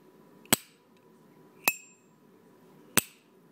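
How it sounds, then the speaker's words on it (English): A fake Zippo lighter's lid flicks three times, each a sharp, isolated metallic click spaced about a second apart against a quiet background. "first here's the sound of the fake lighter"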